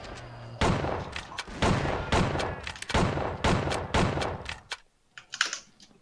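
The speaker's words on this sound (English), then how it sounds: "Am I above using the Gatling gun?" Gatling gun fire in the Western shooter Outlaws during a capture-the-flag multiplayer match: a loud, rapid run of dense bursts for nearly five seconds, then a sudden stop followed by a few fainter scattered sounds.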